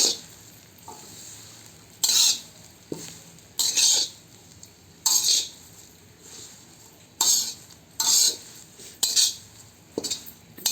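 Curry leaves fry on a low flame while a spoon scrapes and stirs the pan for curry leaf podi, with a soft continuous sizzle broken by about eight sharp metallic stirring bursts at regular intervals.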